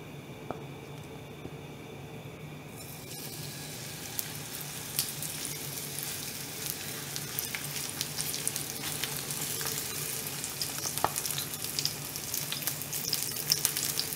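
Steady sizzling of Korean scallion pancake batter frying in hot oil, a dense crackling hiss that swells after a few seconds and keeps popping with no voices.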